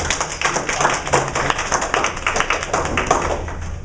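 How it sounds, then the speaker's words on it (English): An audience claps to welcome a speaker at a presentation, with dense, steady applause lasting throughout and no voices over it. "can we all please welcome him with a round of applause"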